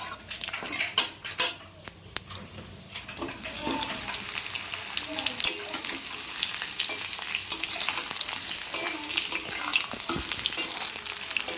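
Mango pieces for a sweet-sour pickle are stirred in a pan of hot oil with chilli, bay leaf and panch phoron, a spoon scraping and clinking against the pan over a steady sizzle, with a few sharper knocks early on.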